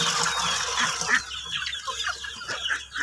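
Chickens clucking at an evening feeding, a few short close clucks and soft calls scattered over quiet background.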